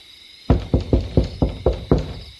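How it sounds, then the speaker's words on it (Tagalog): Knocking on a door from outside at night, six firm, evenly spaced raps close by in an otherwise quiet room. "patulog na lang ako nang may marinig akong kumakatok mula sa labas"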